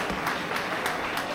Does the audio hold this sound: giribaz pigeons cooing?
no